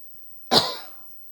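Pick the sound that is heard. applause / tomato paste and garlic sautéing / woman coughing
woman coughing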